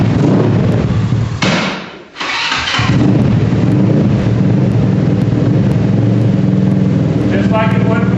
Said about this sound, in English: You can hear the side stand go up, turn the key, pull on your brake